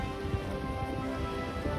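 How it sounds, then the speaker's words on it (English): Steady rain falling outdoors on and around a narrowboat, a dense continuous patter of drops on surfaces, close and fairly loud, with no voices. "But not when it's raining."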